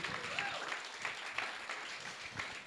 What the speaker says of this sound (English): Please give a warm round of applause for Aruna and the whole HipHopHuis team